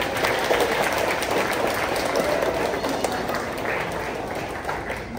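Sustained applause from a graduation audience honoring parents and guardians at a junior high school moving-up ceremony, steady dense clapping filling the hall from start to finish with no break.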